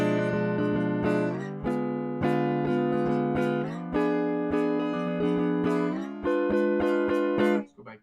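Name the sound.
guitar playing inside chords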